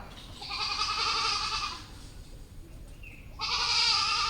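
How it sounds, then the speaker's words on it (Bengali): A large-breed goat gives two long, loud bleats close by, separated by a short quiet gap, with faint background noise. "বড় জাতের ছাগল"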